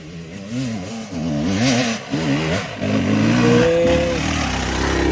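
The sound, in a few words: motorcycle engine revving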